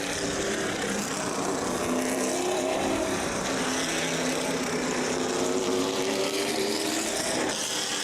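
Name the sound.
race cars on Delaware Speedway track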